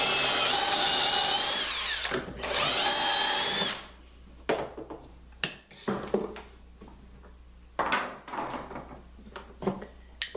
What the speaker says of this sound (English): Drill my last one here.